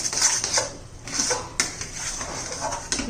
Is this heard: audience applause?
no